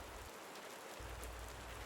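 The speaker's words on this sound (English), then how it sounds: "It's raining outside, a slow, steady desert rain, falling like it has nowhere else to be tonight" A slow, steady desert rain falls outside at night as a soft, even hiss, faint and unbroken, with no voices.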